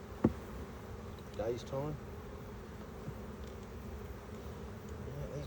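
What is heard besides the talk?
honey bees buzzing around an opened hive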